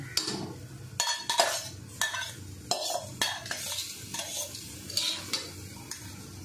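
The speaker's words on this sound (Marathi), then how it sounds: "एकदम कमी गॅसवर भाजायचे तांदूळ आणि डाळ" Washed rice and moong dal are dry-roasted on a griddle over very low gas, a spatula scraping and turning them in repeated close, gritty strokes with light metallic clinks between.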